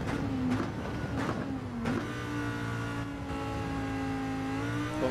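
A Lamborghini Huracán GT3 race car in Gran Turismo 7 revs hard and close, its engine note climbing and dipping through quick gear changes, then holding a sustained high drone on track.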